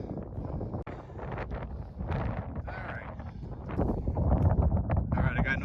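Wind gusts buffet a microphone on a mountain ridge along Bastion Ridge in Kananaskis, a steady low rumble that strengthens toward the end and mixes with rustling movement and some speech.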